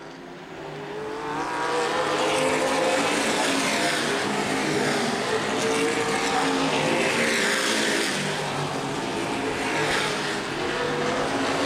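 ABC stock cars racing in the 2012 A feature at Angola Motorsport Speedway, a loud sustained engine roar with cars blending together and sweeping past, with no voices over it.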